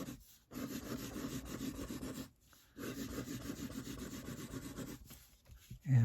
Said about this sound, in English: I'm going to turn it into a spiral. Maybe an angled spiral like this.